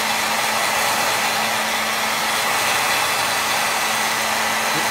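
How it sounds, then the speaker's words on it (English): A worn-out hair dryer runs steadily and loudly at close range for the whole stretch, with a broad airy whoosh and a thin constant whine that suggests it is going bad. "I know this hair dryer does not sound good."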